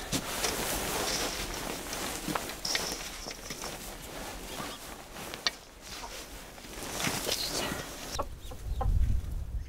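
Chickens cluck softly in a mountain-village coop, scattered faint calls mixed with rustling and footsteps, with a low thump near the end.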